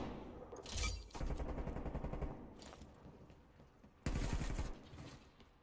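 AK-74 gunfire in a competitive video game match, two rapid automatic bursts separated by a pause, sharp and fairly loud against quieter game ambience.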